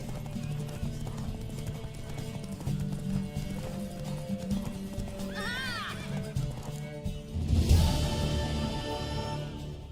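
Galloping hooves of a racing horse in The Witcher 3 drum along under music, broken by a loud, rising whinny midway and a heavy burst of noise near the end, with little talk.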